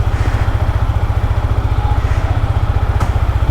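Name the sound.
Yamaha MT-15 V2.0 motorcycle engine started and idling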